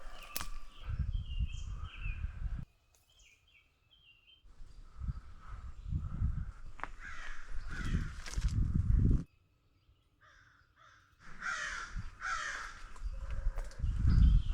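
Harsh crow caws ring out repeatedly outdoors in bursts, separated by quiet gaps, with rustling and soft movement noises nearby.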